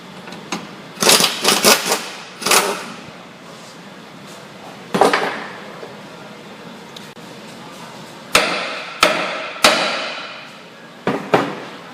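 Hammer rapping on the steering knuckle of a Ford Focus or Transit Connect during front wheel bearing replacement: sharp metallic knocks, a quick cluster early, a lone hit midway, then a run of loud blows near the end.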